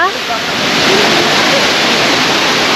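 A loud, steady rush of a waterfall in Laos during the rainy season, roaring continuously, close by, with a brief voice at the very start.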